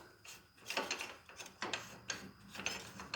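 Adjuster nut being run down the threaded body of a UTV suspension shock spring, giving a close, quiet series of irregular metallic clicks and ratcheting scrapes with no talk.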